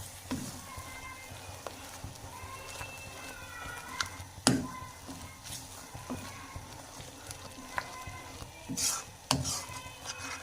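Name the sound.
spoon stirring egg halwa mixture in a pan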